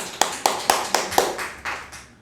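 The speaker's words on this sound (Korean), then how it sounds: "우리 하나님께 영광의 박수 올립니다" A church congregation claps during a Korean Sunday sermon: five or six loud, evenly spaced claps in unison, then a couple of softer, trailing claps as the rhythm fades out.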